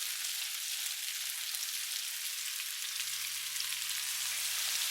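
Sauce hits a hot wok of cumin beef stir fry, a steady close sizzle and crackle of frying that continues evenly, with a faint low hum entering partway through.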